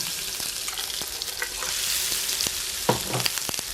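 Jun'an fish cakes, made from minced fish kneaded until springy, fry in a pan with a steady, close hiss and crackle and a few sharper pops near the end.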